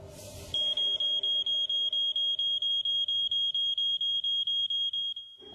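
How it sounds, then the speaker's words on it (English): Smoke alarm sounding in a staged hotel kitchen fire: a shrill, rapid pulsing electronic beep repeating steadily for several seconds, loud and alone, then stopping. "the illusion of one, created by a smoke machine and some sound effects"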